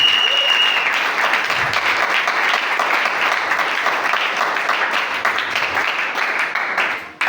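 A church congregation applauds, a loud, dense wash of many hands clapping steadily for several seconds before fading out at the end.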